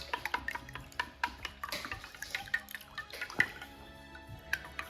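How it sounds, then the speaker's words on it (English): Eggs whisked in a bowl for a Cantonese tomato and egg stir fry, a close series of quick irregular clicking, sloshing strokes. "So now we're just gonna whisk them all up."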